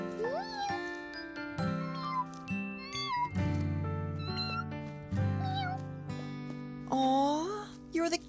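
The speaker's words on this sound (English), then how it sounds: "you're the cutest little kitten I've ever seen" Cartoon kittens from the animated series Clifford The Big Red Dog give a run of high, rising and falling meows, several in quick succession, over a steady bed of music, with a longer upward meow near the end.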